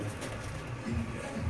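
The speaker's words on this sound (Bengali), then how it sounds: "এই গাছ দেখুন লালশিরা পায়রা" Lalshira pigeons in an old-line desi pigeon loft in Howrah, giving soft, low cooing that murmurs faintly alongside background rustle.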